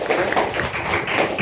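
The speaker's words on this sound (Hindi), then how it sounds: "एक बार बजा दो ताली" A classroom of students clapping together in one dense, even burst of applause that lasts a second or so, with no talk over it.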